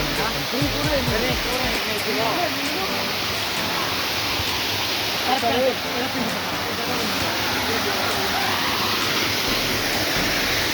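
Outdoor waterfall, a broad steady roar of falling water that fills the whole stretch at high level, with people talking faintly underneath.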